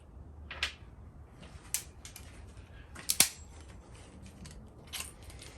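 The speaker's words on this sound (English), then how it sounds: "Next step is torquing cylinder head bolts." A torque wrench tightens a non-running lawn mower's 13 mm cylinder head bolts to 12 foot-pounds, giving a few sharp, faint, isolated clicks spread over quiet background.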